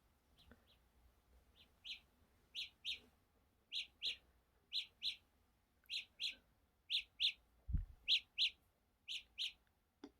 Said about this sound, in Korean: 그럼 이렇게 이어폰에서 새소리가 나요